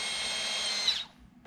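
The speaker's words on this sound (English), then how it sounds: "We'll finish drilling my pilot." Power drill boring a pilot hole through a wooden model plane wing, a steady high whine that winds down and stops after about a second, close and alone.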